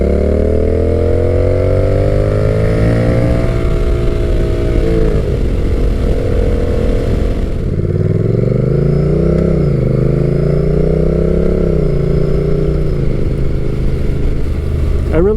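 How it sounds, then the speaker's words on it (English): A Honda Rebel 1100 T DCT motorcycle with a Kaufman exhaust rumbles steadily and loudly, its pitch rising and falling as the bike accelerates and eases off through the gears. "I really like the tone of the Kaufman's exhaust on this bike."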